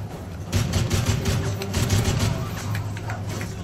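Rapid bursts of gunfire in Modern Warfare 3 co-op Spec Ops, loud, repeated cracks over a rumbling low background, with no talking.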